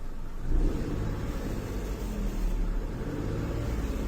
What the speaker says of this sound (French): si j'appuie sur l'accélérateur